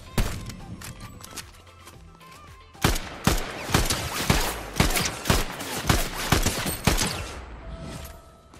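Video game gunfire rings out as a rapid volley of loud, sharp shots, evenly spaced through the second half after a quieter opening with a few scattered shots and faint background noise.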